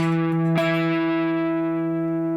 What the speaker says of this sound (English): Hear the octave.